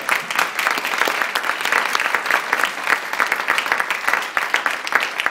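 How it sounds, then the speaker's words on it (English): An audience gives a round of applause to a group of people thanked for their work, a steady, dense clatter of many hands clapping close by for about five seconds with no talk over it. "How about we give them a round of applause?"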